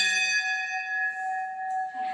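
A single temple bell strike rings out clear and bright at a Gajanan Maharaj math in Khopoli, its metallic tone lingering and slowly fading, with a brief faint noise at the end.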